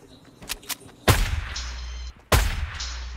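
Two heavy sniper rifle shots in a video game crack out about a second apart, each with a booming low tail and ringing echo, preceded by a couple of faint clicks.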